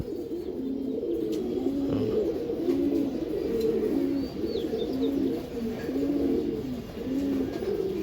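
A pair of pigeons at a pigeon farm give continuous, throaty cooing close by, the repeated low rolling calls pulsing steadily for the whole stretch with almost no voice present.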